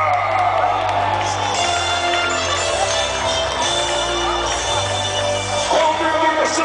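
At a rodeo in Teodoro, a large crowd cheers and whoops in a continuous, loud wash of noise, with an amplified voice and low droning tones running underneath.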